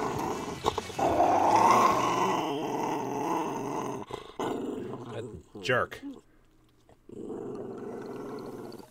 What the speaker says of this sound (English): I don't know why you're growling.